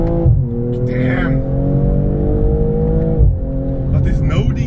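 A BMW M240i accelerates hard, its engine note rising steadily in a loud, close, sustained pull with a brief dip around three seconds before climbing again, while a person talks over it.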